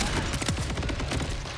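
Rapid gunfire from a weapon in the shooter game Borderlands 4, a dense continuous burst of shots running through the whole moment at steady loudness with no clear speech over it.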